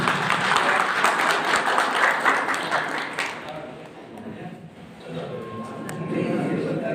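Loud, dense applause for an honoured guest at a felicitation event with poetry recitation, a strong wash of clapping that fades partway through and then swells again, with some voices underneath.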